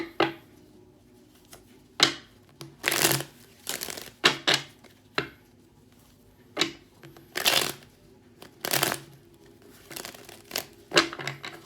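Tarot cards shuffled by hand in bursts of crisp riffling and soft shuffling, several short flurries separated by quiet pauses, close up with no talk.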